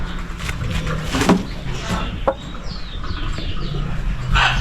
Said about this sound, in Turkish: Şu horozun büyüğüne bakar mısınız?